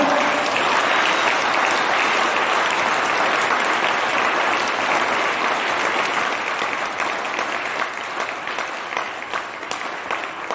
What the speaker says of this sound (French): Alors acclamons Dieu pour cette joie que nous avons.